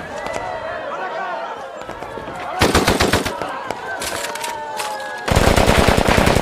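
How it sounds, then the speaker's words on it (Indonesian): A gunfire shootout from an action film: rapid automatic bursts crackle continuously, with louder, denser volleys breaking in partway through and again near the end, over a layered background of film sound. "Aksi baku tembak pun terjadi."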